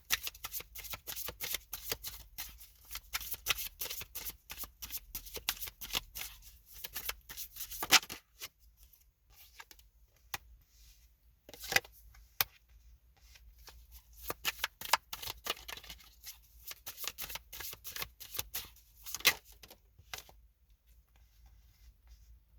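Tarot cards being shuffled and handled, a near, crisp run of riffling and flicking bursts with brief pauses, continuing through the whole stretch without talk.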